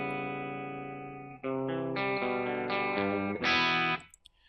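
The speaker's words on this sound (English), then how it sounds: "I've actually added another cleaner guitar using the Gibson. Same patch, same everything, but with less gain yet." A Gibson electric guitar plays alone through an effects patch with low gain for a fairly clean tone. A sustained chord gives way to a short series of rising chords and notes, then cuts off.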